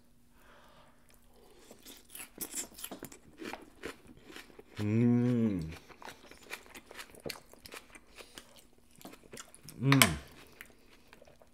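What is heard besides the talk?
biting and chewing a big bite of loco moco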